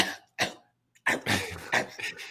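A voice imitates a bulldog's bark with a few short, gruff, cough-like bursts, coming close together in quick succession.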